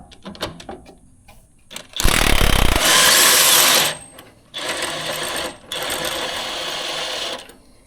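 An air impact gun loosens a 7/8 flag nut on a broken steering bracket. It fires three loud, close hammering bursts, each one to two seconds long, with short quiet gaps between them.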